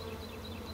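Honey bees buzz steadily at a hive entrance, a soft, continuous drone of many insects with no talk over it.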